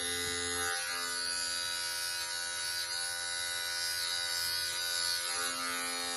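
An Andis Envy Supreme hair clipper with a number 1 guard, lever opened, buzzes steadily and close while fading hair, its high electric whine unbroken throughout with a slight shift in tone near the start and end.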